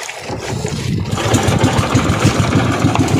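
A fishing boat engine running again after stalling at night, a loud, close, steady mid-pitched chugging with a rapid regular pulse over broad noise.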